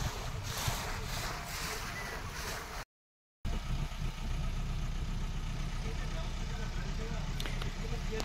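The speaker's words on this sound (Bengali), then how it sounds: "কিভাবে জল কেটে বেরিয়ে যাচ্ছে বোট" A motorboat pushes through river water in the Sundarbans mangrove forest, giving a steady engine hum with broad washing and rushing water, briefly cut off by a gap before resuming.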